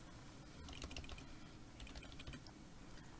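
Quiet, close keystrokes on a computer keyboard as a console command is typed, a short run of light irregular clicks over a faint steady background hum, with no voices.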